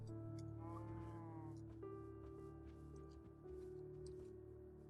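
Bleating calls from a cow in the TerraFirmaCraft video game, a couple of drawn-out tonal cries rising and sustained over a low droning backdrop, fairly faint.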